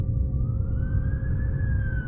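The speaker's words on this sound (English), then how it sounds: "A siren." A police car siren wails from a distance as a single long rising and falling tone over a heavy low rumble of driving, steady throughout.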